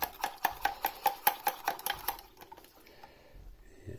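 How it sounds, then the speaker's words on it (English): Quick rhythmic clinking of a stirrer against a liquid-filled container in a Joule's law heating experiment, about a dozen sharp evenly spaced taps over two seconds before the stirring slows and fades. "I'm going to give this a good mix now to get the final highest temperature"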